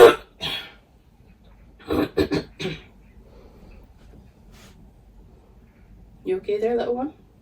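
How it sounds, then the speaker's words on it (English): A few harsh coughs and throat clears come in short bursts near the microphone, followed by a brief vocal murmur. "Excuse me, I need to cough."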